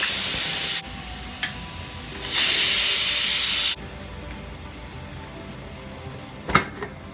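Pressure cooker venting steam during a quick mutton cook, two loud sustained hissing bursts close by, the second brighter, followed by quieter clinks and a small knock.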